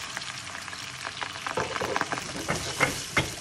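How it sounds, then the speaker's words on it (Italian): Prawns frying with garlic in a pan over high heat, a steady dense sizzle with scattered crackles and spits rising slightly louder toward the end, close and without talk. "mettiamo i gamberi, sistemiamo. E a fiamma alta facciamo cuocere per un minuto"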